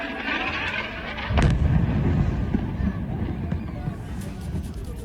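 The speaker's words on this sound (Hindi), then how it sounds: "आप सुन सकते हैं कि एक धमाका बड़ी जोरदार तरीके से होता है" A heavy, booming blast bursts out amid distant crowd noise and chatter, its low rumble lingering and slowly fading over several seconds.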